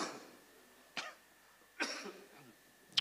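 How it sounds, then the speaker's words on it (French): Three short, quiet coughs spaced about a second apart, close to the microphone in an otherwise hushed room. "Je vous avais promis de tousser"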